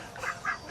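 Ducks in a backyard poultry pen shared with chickens and quail give three nasal quacks in quick, even succession, close and clear, with no voices.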